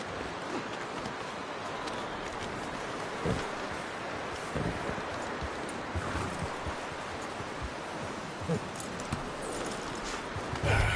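Hooves of a horse in the video game Red Dead Redemption 2 clip-clop in a loose, steady rhythm, blended into a bed of wind and rustling outdoor ambience.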